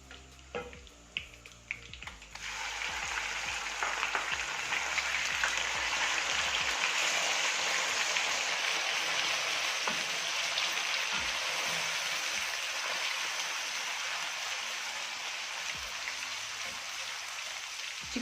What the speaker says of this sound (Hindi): चिकन को हमें इतना भूनना है जब तक इसके ऊपर ब्राउन कलर आ जाए हल्का हल्का, तब तक हमने इसको अच्छी तरह भूनना है।